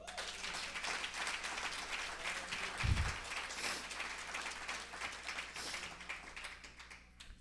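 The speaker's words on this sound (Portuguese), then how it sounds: "Pode aplaudir o Senhor?" A church congregation applauds during a sermon, with broad, steady clapping that fills the room at moderate loudness for several seconds and a brief low thump partway through.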